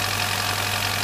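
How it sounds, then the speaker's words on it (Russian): A 2006 Kia Picanto engine idles with a steady, dense mechanical hum and a slight shaking vibration, close and loud, with no voices. "В принципе, двигатель мягенько работает, но его трясет."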